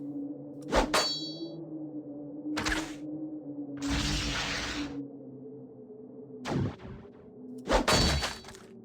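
A turret smashed in the video game Avadon 2: a series of loud metallic clangs and ringing dings, with a harsher crashing burst in the middle, over a low steady hum.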